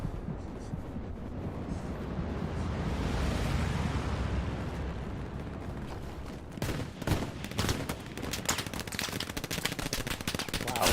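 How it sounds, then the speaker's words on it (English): Machine gun fire in the video game Hell Let Loose: a rumbling battlefield wash gives way to sharp, rapid bursts of shots, loud and close toward the end. "MG fire right at the bottom"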